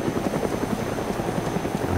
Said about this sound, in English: I'm going out to the chopper.